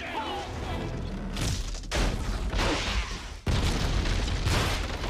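Explosions from a scene in the film National Treasure: two heavy booming blasts about two seconds apart, each followed by crashing, rumbling debris, loud and close over a dense film soundtrack.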